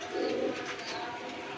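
A racer pigeon, one of a pair of vegetable racers, gives a single short, soft coo close by, followed by quiet room noise.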